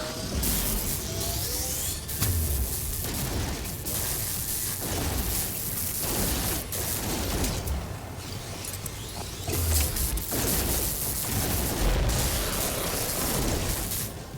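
A neutron cannon fires in the space game No Man's Sky, giving a dense run of loud blasts and bursting booms that continue for about fourteen seconds with no talk.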